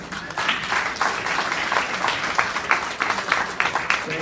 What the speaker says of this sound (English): could I hear an applause for that?